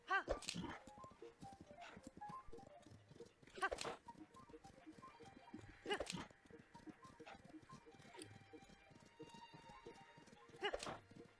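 Horse hooves clip-clopping at a walk across a small wooden bridge in The Legend of Zelda: Tears of the Kingdom, an even, steady rhythm of close, fairly quiet hoofbeats with a few louder thuds.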